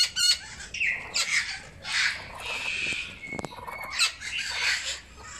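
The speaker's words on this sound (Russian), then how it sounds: "Веерный попугай." Hawk-headed parrots squawk in a Russian bird park, several harsh, raspy calls scattered across a few seconds, fairly close and moderately loud with no talking over them.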